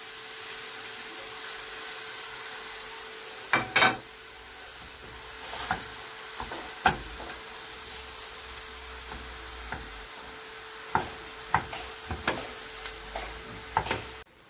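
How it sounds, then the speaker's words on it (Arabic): Kibbeh made with lean meat frying in a pan with a little oil, a steady soft sizzle with scattered crackles and pops, close and fairly quiet, with no talking. "هلا مثل ما شايفين عم بقليها"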